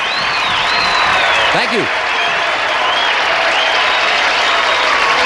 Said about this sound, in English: That clapping was definitely out of tempo.